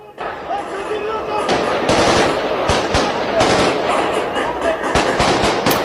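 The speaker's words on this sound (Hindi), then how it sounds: "तो लगातार यहां फायरिंग हो रही है" Dense, continuous automatic gunfire crackles in Syria, rapid overlapping bursts near and loud throughout, with a voice faintly audible beneath the shooting.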